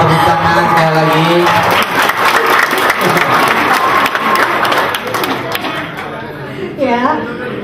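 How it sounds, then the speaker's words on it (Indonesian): A large audience at a regional gathering in Nusa Tenggara Barat, Indonesia, claps loudly and continuously, with crowd chatter mixed into the dense applause throughout. "kita berikan tepuk tangan sekali lagi"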